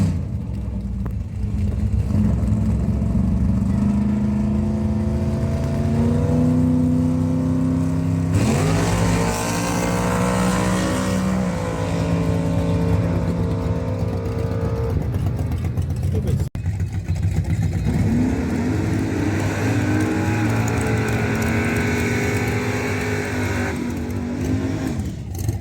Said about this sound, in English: This is Brian Lincolnfilter in his beautiful 68 Cuda.